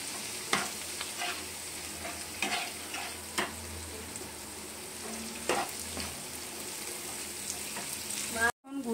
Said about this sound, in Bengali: এখন রসুন বাটা আর আদা বাটাটা দিয়েও ভালো করে একটু কষিয়ে নেব।